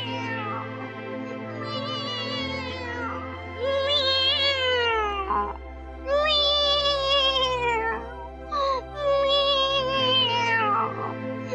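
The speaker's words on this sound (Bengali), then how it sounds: "একটি বিড়াল পথের ধারে বসে কাঁদছে" A cartoon cat crying by the roadside gives a series of long, wailing meows, each rising and falling in pitch, clear and close, with a steady low musical drone underneath and no talking.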